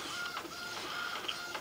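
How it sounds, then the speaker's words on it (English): An office printer in an automotive restoration repair shop runs steadily, feeding paper out as it prints an estimate, with a continuous whirring mechanism and small clicks, close and alone. "It's printing some paper out."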